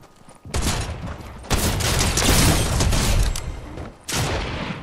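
Rapid bursts of drum gun fire in Fortnite, loud and close, several sustained volleys broken by short pauses with no speech over them.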